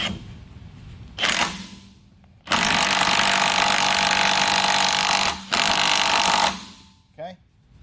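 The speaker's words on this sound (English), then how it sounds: "We're going to use that to tighten this nut down" Power tool tightening a nut in a workshop, a loud continuous whirring burst lasting a few seconds, briefly broken and resumed, with short bursts before and after.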